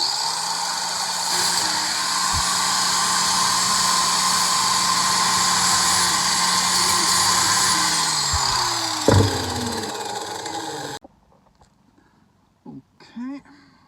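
A power tool grinds steadily at the coating and edges of a Jeep Cherokee Liberty KJ chassis, a loud continuous whine for about ten seconds before winding down and stopping, followed by a brief spoken voice.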